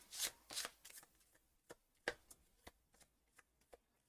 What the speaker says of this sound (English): Shuffle the familiar deck and reveal 1 card.